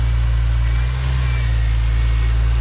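A Ford Falcon BA XR6 converted to turbo runs close by, a loud, steady engine drone with a strong low hum and only a slight dip in level, sounding more like a constant idle than sharp revs.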